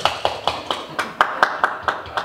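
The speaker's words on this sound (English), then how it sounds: "You're allowed to applaud yourself." A small live-music audience claps at a folk singer-songwriter's show, with sharp, distinct hand claps landing in a steady rhythm, about ten in just over two seconds, fairly close and with no voices.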